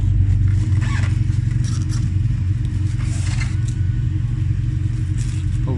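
A loud, rumbling open-header Acura RSX race car engine drones low and steady outside, with rough, raspy revs and occasional metallic scrapes and clatter layered on top.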